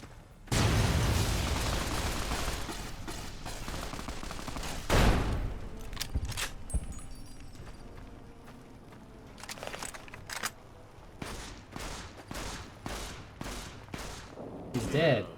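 Gunfire and explosions in Fallout New Vegas: a loud blast and rolling volley open, another boom follows, then scattered sharp shots and clinks fade into sparse pops as the fight winds down.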